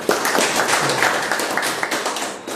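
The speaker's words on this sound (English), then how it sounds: "Please have a huge round of applause for Toastmaster Aditya." A Toastmasters club audience gives a hearty round of applause indoors, dense overlapping claps filling the room steadily without speech.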